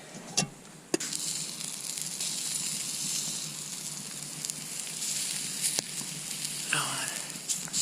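A steak sizzles in a pan over a campfire at a snowy winter campsite, giving a steady close frying hiss with a few sharp pops and crackles.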